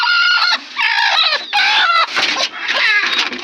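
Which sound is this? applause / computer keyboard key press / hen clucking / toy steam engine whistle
hen clucking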